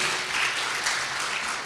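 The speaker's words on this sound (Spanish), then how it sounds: "un aplauso para Maruquel" Brief burst of audience applause for a panelist at a policy discussion, steady, fairly close clapping filling the whole short stretch.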